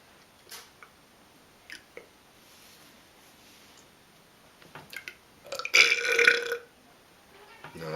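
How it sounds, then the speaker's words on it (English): An adult belches after drinking beer: a few short, small burps early on, then one louder, longer burp near the end, close and alone with no talk. "That kind of lackluster burping."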